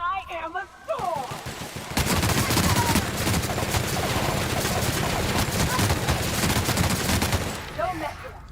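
Dense, sustained automatic gunfire from a shooter video game, a heavy rattling barrage of overlapping shots lasting several seconds, with fainter scattered shots and game sounds before and after.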